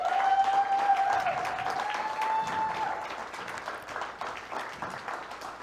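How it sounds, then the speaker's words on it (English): A crowd at a tech fest birthday celebration applauds continuously, dense clapping under a faint sustained tone early on, steady and fairly close, gradually thinning toward the end. "if we could just get one more round of applause that this man has made it 50 years"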